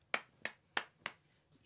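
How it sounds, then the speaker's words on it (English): Four sharp, evenly spaced hand claps ring out close and crisp in a quiet room, each short snap fading quickly before the next. "A little more clapping."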